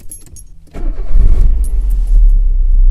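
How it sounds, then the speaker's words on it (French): Keys jangle briefly before a Citroën Saxo engine cranks and catches, then settles into a steady, close idle that carries on to the end. "Donc maintenant, on va essayer de redémarrer la voiture"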